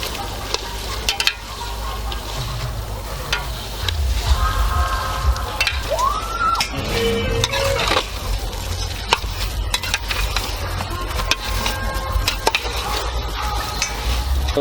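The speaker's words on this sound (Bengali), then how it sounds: "মাংস কষানো হয়ে গেছে, এবার মাংসটা দিয়ে দিচ্ছি।" Meat stirred into a spice paste in a pan outdoors, with a steady sizzle, scraping of a spoon and occasional clinks of metal, close and fairly loud, with no talking.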